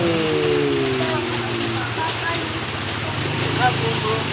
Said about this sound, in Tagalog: Naulan, mga kabrad.